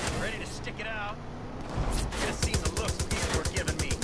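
Gunfire in the video game Far Cry 5, a stuttering run of rapid shots starting partway through, following a stretch of game noise and a voice.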